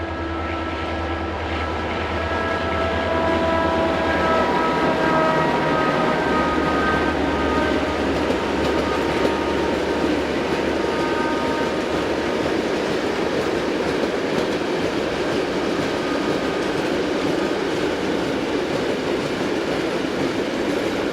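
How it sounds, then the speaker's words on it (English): A Slovenian Class 664 diesel locomotive hauls loaded iron ore hoppers in a steady, loud rumble with a low engine drone and clattering wagons, heard close throughout without any voices. "Here 664118 arrives with loaded iron ore hoppers."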